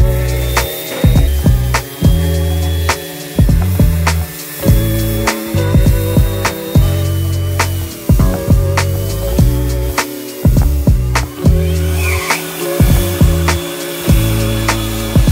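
Close, loud scraping of sandpaper on wooden patio furniture tops in quick back-and-forth strokes, a steady uneven rhythm with no voices.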